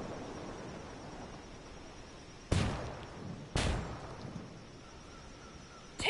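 Two sharp gunshots crack out about a second apart in the tactical shooter Ghost War, loud and close against a quiet ambient background.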